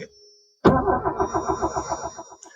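An old car's engine cranks and catches abruptly after a quiet pause, then settles into a rough, pulsing idle with an uneven rhythmic chug, close and fairly loud.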